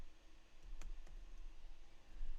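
Keys on a computer keyboard tap out a word, a few quiet, close clicks spaced irregularly over faint room noise.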